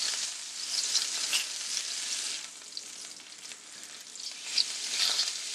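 A burger patty sizzling in a pan right after being flipped, giving a strong, steady crackling hiss with small pops, close and alone.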